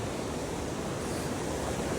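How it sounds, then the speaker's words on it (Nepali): A mountain stream flowing out of Naha cave rushes in a steady, dense roar of water, constant and fairly loud with no breaks, and no voices. "यो चाहिँ नुहा गुफाबाट आउने खोला है त"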